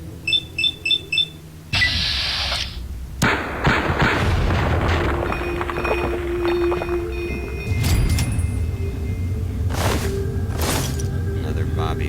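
Gunfire and heavy booms in the video game Fallout 3's The Pitt DLC, a burst of rapid shots followed by loud dense explosive rumble and scattered impacts over game alarms and effects.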